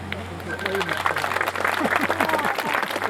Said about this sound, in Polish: Wielkie brawa dla Państwa starosty Wrocławskiej Wiesława P